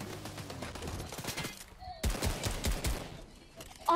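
Rifle gunfire in the Fortnite video game, several sharp shots in a quick burst with a second volley after a brief pause, mixed with someone talking.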